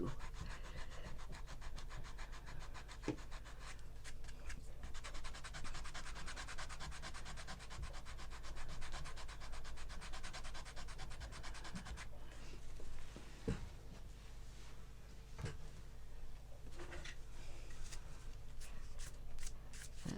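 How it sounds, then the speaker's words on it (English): A Tombow Mono sand eraser rubs stray ink off paper during stamping craftwork, giving a steady, close scratchy scrubbing that runs continuously with small pauses and paper handling noises. "this is a Tombow Mono eraser. It is a sand eraser for ink"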